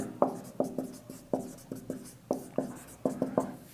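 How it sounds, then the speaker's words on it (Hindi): Marker or chalk strokes on a board during a reasoning class, a steady series of short scratchy taps and squeaks, fairly close and clear with no talking over them. "तो क्वेश्चन के स्टेटमेंट में शॉर्ट में लिख रहा हूं।"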